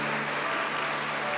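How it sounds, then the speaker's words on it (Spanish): Applause from a church congregation during a service, a dense, steady wash of clapping with no gaps, heard alone. "Dale un aplauso al amor de Dios"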